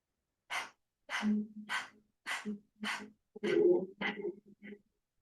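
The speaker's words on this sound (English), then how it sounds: "You'll start by sticking the tongue out and panting like a dog." A person doing a yoga breathing exercise, tongue out, panting like a dog: a series of about eight short, sharp breath bursts in uneven rhythm, close and fairly quiet, with no talking.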